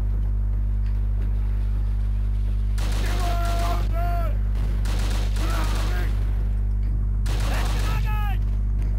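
Enemy gunfire in the video game Call of Duty: Roads to Victory, heard as three sharp rapid-fire bursts over a steady low hum, with voices shouting between the volleys.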